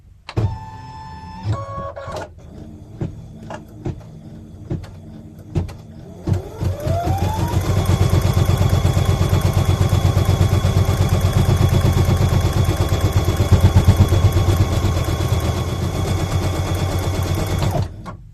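An embroidery machine stitches out a placement line for an appliqué clover hot pad. A few clicks and beeps come first, then the motor spins up to a loud, fast, steady rhythmic whir of needle strokes that runs to the end.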